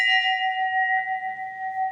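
A metal temple bell at a Mahadev shrine rings out once and sustains a clear, steady resonant tone with bright overtones, decaying slowly and heard up close on its own.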